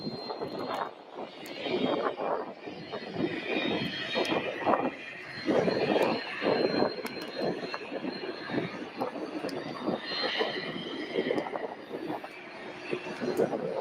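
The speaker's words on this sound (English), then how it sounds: "we have Southwest Airlines 737-700" A Southwest Airlines Boeing 737-700 arriving from Houston Hobby at Louisville airport gives a broad, distant jet roar that swells and fades over wind-like noise and scattered clicks.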